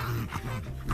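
A dog in a video game reacting to a pizza delivery boy at the door, heard as close, agitated yelps and whimpering bursts without talk.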